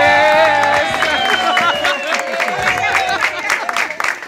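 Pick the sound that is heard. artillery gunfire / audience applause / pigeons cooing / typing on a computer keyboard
audience applause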